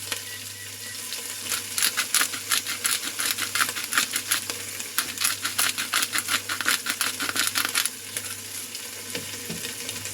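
Three-color pepper cracked in a pepper grinder over a seasoned vegetable medley, a rapid train of crisp gritty clicks close by, fairly loud and steady for several seconds.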